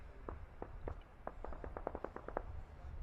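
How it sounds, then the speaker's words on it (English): Distant gunfire pops in a rapid irregular series of about a dozen faint sharp reports over a low steady background rumble in an outdoor city setting. "that was definitely some gunfire"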